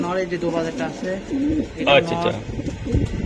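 Racing pigeons at a pigeon farm coo in soft, throaty repeated calls close by, with a voice talking over them at moments.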